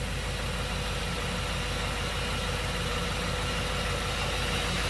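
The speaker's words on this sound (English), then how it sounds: "So you can use this video as a reference point to what you're going to hear from an engine." A BMW 8-Series V8 engine idling smoothly and steadily, heard close up with an even, continuous low rumble and no voices.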